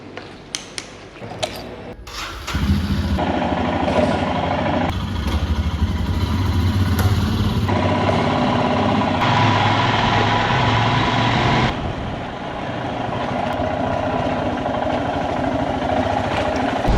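A motorcycle engine starts up after a few clicks and then runs steadily, close and fairly loud, its tone shifting as it idles and revs while setting off for Delhi.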